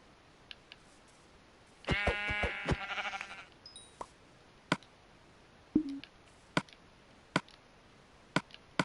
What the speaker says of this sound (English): diamonds and a pink sheep